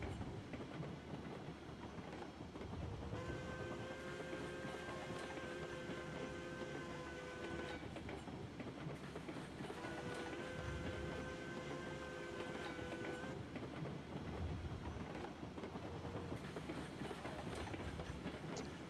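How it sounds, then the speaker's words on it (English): A large locomotive runs steadily in the Railroads Online railroad game, with a continuous rumbling roll of wheels and clacking rail joints and two stretches of sustained whistle-like tones riding over the noise. "it is nice to have a larger locomotive in the game now"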